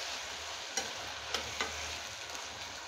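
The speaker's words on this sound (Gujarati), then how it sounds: "રાખેલો ગુવાર છે એ કૂકરમાં ઉમેરી દેશું। મિક્સ કરી દેશું।" Cluster beans (guvar) being stirred into a pressure cooker, with a steady frying hiss and a few distinct scraping clacks of the spoon against the pot, close and alone.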